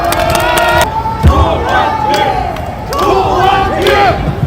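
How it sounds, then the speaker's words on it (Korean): A crowd at an outdoor press conference for a Korean presidential candidate on a city shopping street cheers and shouts loudly, with a burst of raised voices early on and sustained crowd noise throughout. "큰 박수 부탁드립니다."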